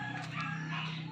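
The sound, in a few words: bird calls from pet birds, chicken-like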